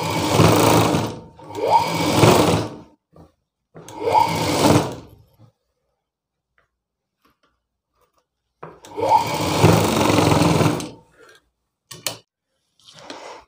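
Sewing machine running in bursts while stitching the side seam of a blouse through the outer fabric and lining, with two runs of a couple of seconds, a short burst, a long pause, then another long run and brief taps.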